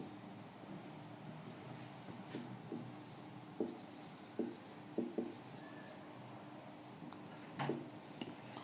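A marker or chalk moves across a board during an English class, giving soft scraping strokes and several distinct taps in irregular bursts over a low room hum, with no talking.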